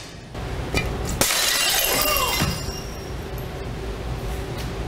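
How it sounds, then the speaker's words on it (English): Items are smashed onto a shop floor: a sudden loud crash of shattering glass, then a second or so of breaking, scattering pieces before the noise settles into steady background hum. "he's just walking around smashing shit on the floor"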